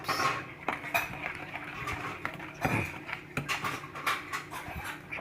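Chocolate biscuit cupcake batter, eggless, worked thoroughly in a bowl: close, uneven clinks and scrapes of a utensil against the dish with soft wet mixing in between, no talking.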